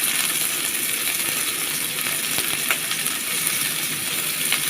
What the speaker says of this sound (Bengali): এটা একটু লাল লাল করে ভেজে নিতে হবে